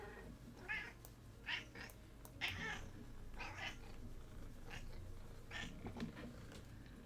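A cat meows repeatedly, about seven distinct cries in an uneven rhythm, fairly close against a steady low background hum.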